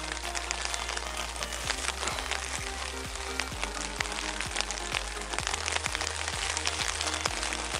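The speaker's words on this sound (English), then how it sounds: "the rain's driving down there" Heavy rain pours onto a lake at a carp fishing venue, a dense steady hiss of drops striking water close by, with occasional low thumps, continuing unbroken and loud throughout.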